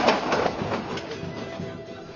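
A passenger train in Peru runs along its rails with a continuous rumbling roar and faint rhythmic clatter from the wheels, steady and fairly loud, heard from inside the carriage with no voices.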